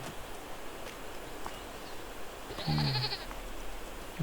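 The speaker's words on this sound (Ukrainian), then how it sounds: "Ой, маленьке козенятко мечі." A short, nasal bleat of a young goat in Farming Simulator 22 rings out once near the middle, over a steady low background hiss.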